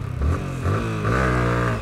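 A motorcycle engine revs hard in two or three rising pulls during a wheelie attempt, loud and close, with no talk.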